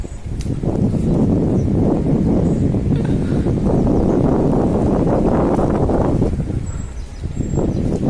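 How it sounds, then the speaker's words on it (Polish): Steady, strong wind buffeting the microphone with low rumbling gusts throughout, faint birds chirping in the background. "gdyby nie ten wiatr, kurczę. Trochę wieje"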